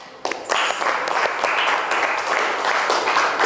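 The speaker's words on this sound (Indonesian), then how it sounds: "Kasih aplaus" A class of students applauds together, a dense burst of clapping that starts abruptly and keeps up steadily to the end at close range.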